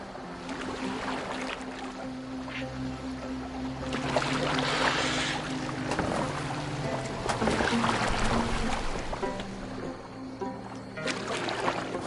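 A Viking longboat moves through water in Assassin's Creed Valhalla, with continuous splashing and rushing water and swells of louder wash as the hull cuts along.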